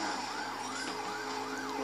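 A police siren sounds in the video game The Crew during a chase. The wailing tone rises and falls in a smooth, repeating sweep, loud and close, with no talk.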